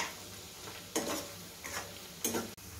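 Onions frying in a pan for masoor pulao, a soft sizzle with occasional louder stirring bursts and clinks, fairly faint and close, no talking.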